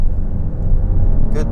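A 2025 Kia Carnival SX-Prestige accelerates at about third throttle, a loud, close, low engine and road rumble that stays steady, with a short burst of higher noise near the end.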